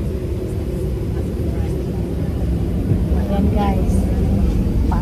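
Aeroplane engine drone inside the cabin of a plane bound for Phoenix, a steady low rumble under a voice speaking briefly.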